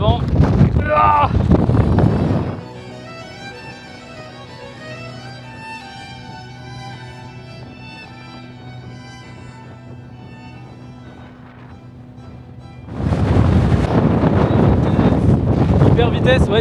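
Strong wind buffets a mountainside above Bodø, Norway, roaring loudly against the microphone at the start and end, with a quieter stretch between where tonal background sound comes through.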